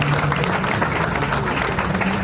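A church congregation applauds at a memorial service, sustained dense clapping with crowd noise filling the whole stretch, close and loud.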